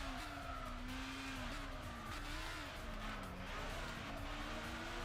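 Race car in Gran Turismo 6 on a world circuit tour, engine droning steadily with pitch dropping as it brakes hard into a corner, faint tire scrub underneath, loud and continuous throughout.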